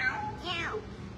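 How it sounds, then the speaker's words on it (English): A domestic cat meows once in a home, a clear, fairly close call sliding downward over about a second, with faint room noise around it. "We have a cat."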